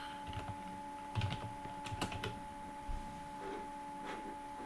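Typing on a computer keyboard, quiet and close, with irregular bursts of key clicks over a low steady hum.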